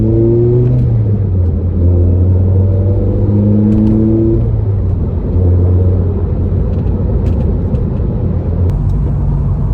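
A Ford ST150 is driven on a lap around a village, its engine loud and close, revving up and easing off repeatedly as the pitch climbs and falls with gear changes.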